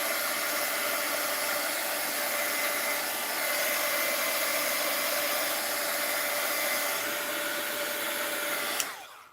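A heat tool for melting sealing wax blows a steady, loud rushing stream of hot air for several seconds, then stops abruptly with a click.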